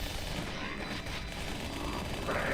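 Pistol gunfire in the Halo 2 video game, dense overlapping shots and bangs packed into a short, loud burst of combat noise.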